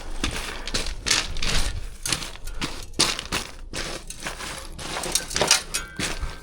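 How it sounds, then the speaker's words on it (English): A rock being smashed down by hand during outdoor stonework, producing a rapid series of sharp, close cracking and crunching impacts in irregular bursts, with no talking. "now I'm just kind of smashing this rock down a little bit"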